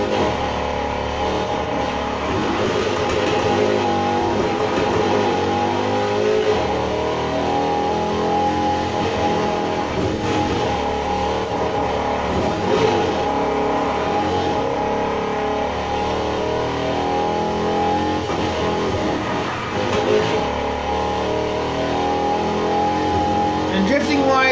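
Infiniti Q60 S '17 sports coupe in Need for Speed Heat, its engine droning steadily at speed throughout with continuous revving and road noise, while a voice talks over it.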